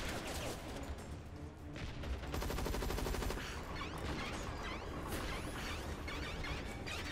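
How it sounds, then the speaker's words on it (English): Pistol and other gunfire in a zombie and monster robot shooter video game, a dense stretch of rapid, loud shots and crashing impacts running continuously throughout with no voice over it. "This pistol came right out of Halo."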